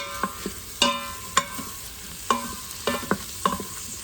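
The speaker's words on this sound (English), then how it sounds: "So I'm actually going to turn this back on to saute." A spoon scrapes and clinks against the metal pot of an Instant Pot while spaghetti sauce sautés, a faint sizzle beneath a handful of sharp, irregular stirring knocks.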